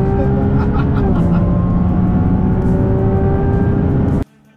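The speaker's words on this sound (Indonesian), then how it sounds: "setelah kita keluar dari corner, kita bisa langsung gaspol untuk nikmatin seluruh 830 tenaga kudanya" A Ferrari 296 GTB with 830 horsepower pulls hard out of a corner at the Sepang circuit, its engine a loud, close, steady roar of rising revs for about four seconds before it cuts off abruptly.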